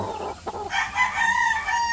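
A barako rooster crows once, loud and close, a strained harmonic call that rises and holds for about a second and a half with no talk over it.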